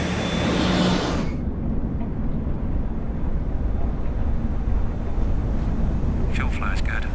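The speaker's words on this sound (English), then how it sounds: "The EJ200 is the most advanced military jet engine in the world. And as it winds up" A Eurofighter EJ200 military jet engine spools up inside the Bloodhound SSC land speed record car, a loud, steady, dense roar that holds throughout with no pauses.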